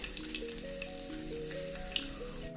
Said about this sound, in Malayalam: എണ്ണയൊക്കെ നന്നായിട്ട് ചൂടായിട്ടുണ്ട് കേട്ടോ നമുക്ക് കുറച്ച് വെളുത്തുള്ളി ഇട്ട് കൊടുക്കാം